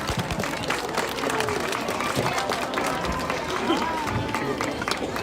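An audience at a zoo animal show claps steadily for Eleanor the pig, the applause dense and continuous, with a presenter's voice running through it.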